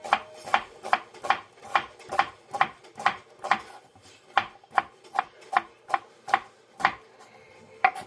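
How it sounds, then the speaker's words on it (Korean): A knife chops onion on a cutting board for Korean stir-fried zucchini, giving a steady run of about fifteen close, crisp, evenly spaced cuts with a brief pause midway. "아유, 칼질이 많이 늘었어요"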